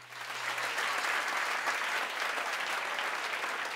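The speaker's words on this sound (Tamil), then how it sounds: "அரங்கு நிறைந்த ஒரு கைத்தட்டல்" Dense applause filling a hall at a Tamil debate event, many hands clapping continuously at moderate distance, steady and sustained without talk.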